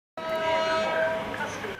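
A train horn blares in a long sustained tone, close and loud, with rail rumble beneath it throughout.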